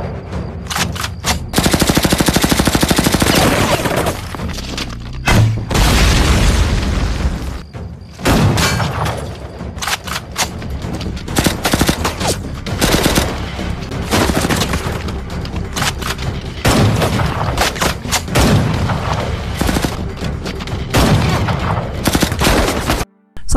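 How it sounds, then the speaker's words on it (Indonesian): Loud, sustained automatic gunfire fills a movie action scene, with dense rapid bursts, booming impacts and brief gaps, continuing almost nonstop without any speech. "Setelah Mubai melepaskan tembakan, ternyata itu adalah sebuah mesin yang sudah Leon kontrol dari jarak jauh."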